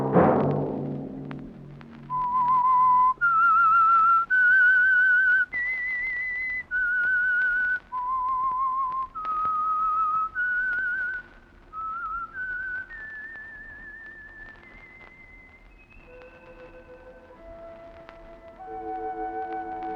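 Whistled theme signal of The Whistler radio drama, a lone human whistle carrying a slow, eerie melody in clear sustained notes, starting after a brief low sound and fading to softer tones near the end.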